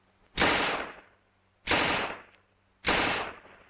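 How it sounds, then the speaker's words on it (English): Three loud bursts of Tommy gun fire from a WWII-era U.S. Army training film, each burst about half a second long and evenly spaced, punchy and close with a quick decay between them. "A Tommy gun."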